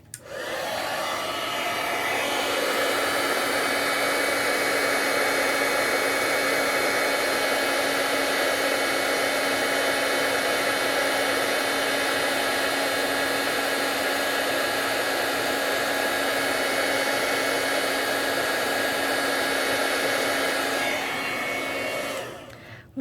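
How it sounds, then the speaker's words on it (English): A heat gun blows hot air to melt embossing powder on paper, a loud steady whooshing whine right up close that holds unbroken for about twenty seconds before shutting off, with no talking. "Now I'm going to get out the heat gun. It's going to be a little loud for just a second."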